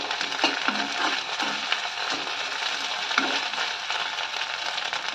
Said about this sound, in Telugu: అల్లం వెల్లుల్లి పేస్ట్ కూడా వేసి చక్కగా ఒకసారి బాగా మిక్స్ చేసుకోవాలి